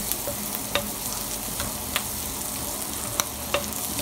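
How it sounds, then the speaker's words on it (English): Onion sautéing in a skillet for New Orleans style liver in brown gravy, a continuous close frying sizzle broken by a few sharp stirring clicks, no voices. "Sauteed my onion right now. Getting it browned a little bit,"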